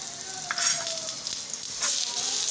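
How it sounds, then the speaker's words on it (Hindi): Leftover roti frying with a little oil on a hot griddle gives a steady close sizzle with brief louder hissing surges, no talk. "अब हम इसको डालेंगे तवे के ऊपर उसके बाद थोड़ा सा लगाया जाएगा आयल"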